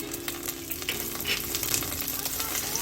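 Cloves, cardamom, cinnamon bark, curry leaves and fennel seeds sizzle lightly in hot oil, a soft, steady crackle with small pops and the occasional scrape of stirring, fairly quiet and close.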